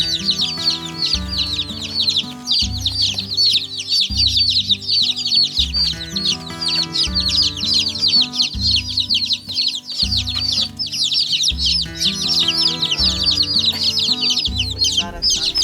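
Baby chicks kept under a heat lamp in a sawdust-lined brooder chirp constantly in a dense, high-pitched chorus, with a repeating low rhythmic background pulse running underneath.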